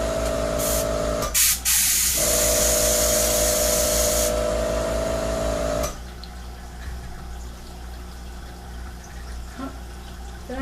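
Airbrush hisses in a steady, loud spray over a cake pop twirled on its stick, with a brief break near the start, then cuts off into quieter background noise after about six seconds.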